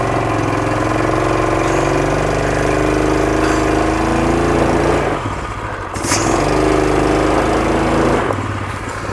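A Rokon motorbike engine runs steadily at a fast, buzzing idle, close and loud, with a brief dip and a sharp mechanical rattle as the back tire spins, then the engine picks back up without talking.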